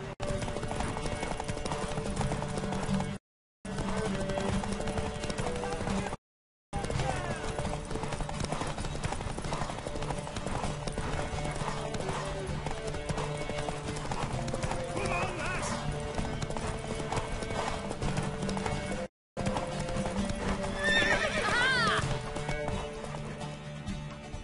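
A horse gallops with steady rhythmic hoofbeats in The Witcher 3 video game, a neigh rising near the end, the pounding run carrying on under game music and ambient sound with brief silent gaps.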